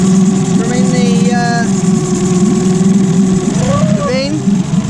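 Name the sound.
outboard boat engine running while flushed with fresh water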